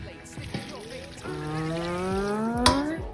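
Water pours into a pot holding pork neck bones and bay leaves for braising, a steady rising gurgle lasting a couple of seconds, close by, with a few clunks of the pot at the start.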